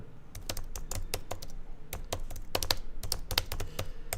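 Typing on a computer keyboard while entering a Google search, a steady run of quick, close key clicks with irregular rhythm and a few louder taps, no talking.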